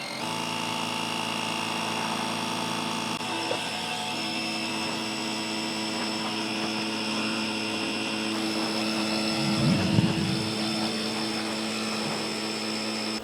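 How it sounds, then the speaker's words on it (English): A DeWalt DXAEPS14 all-in-one inflator's compressor runs steadily and fairly quietly, a constant mechanical drone with tonal hum that holds throughout, no talk over it. "It's not a loud compressor."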